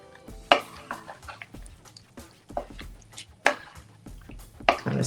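Curried butter beans stirred in a pot, with soft squishing and wet sloshing, a few sharper spoon knocks against the pan, and quiet kitchen background between strokes.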